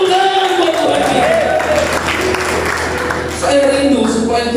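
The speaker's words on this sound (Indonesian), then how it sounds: "Yang setuju dengan tepuk tangan buat Tuhan kita." Clapping from a church congregation at a GBI service in Denpasar, Bali, steady and continuous for several seconds, heard under and alongside ongoing talk.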